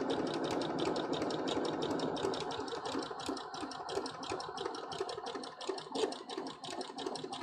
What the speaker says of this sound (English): just sewing it down